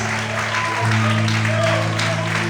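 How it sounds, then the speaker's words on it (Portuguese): A church congregation claps together during a sermon, a steady wash of applause over a low sustained organ or keyboard drone. "Quantos podem aplaudir e exaltar a Deus por isso?"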